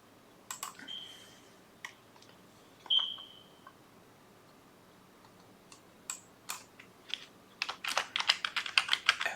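Typing on a computer keyboard, with scattered single key clicks and short pauses early on, then a quick run of close, crisp keystrokes toward the end.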